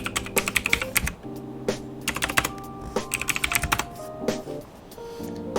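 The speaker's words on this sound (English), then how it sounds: "We go over here and we type in inertia." Typing a word on a computer keyboard: close, crisp clusters of key clicks in quick irregular bursts with short pauses, heard over a steady background tone.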